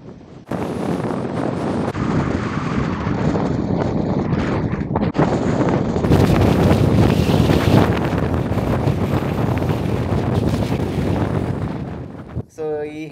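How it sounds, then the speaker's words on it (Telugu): Heavy wind buffets the microphone on a hilltop above Llandudno in Snowdonia, Wales, a loud continuous roar with gusts that swell stronger midway and drop off near the end. "అబ్బో ఇక్కడ అయితే హెవీ విండ్, జనాలు కూడా నెట్టేస్తుంది అనమాట."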